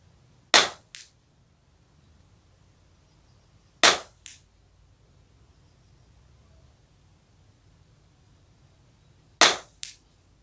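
Zoraki Ultra pistol fired at targets 35 to 50 metres away: three sharp, loud shots spaced several seconds apart, each followed by a quick echo off the range, with quiet hiss between.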